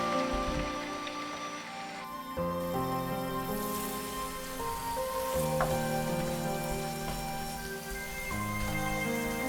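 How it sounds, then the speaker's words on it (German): Honey water bubbles and sizzles in a hot pan with golden-browned chicken wings, a steady crackling boil that continues under background music throughout. "Honigwasser hineingeben. Aufkochen lassen."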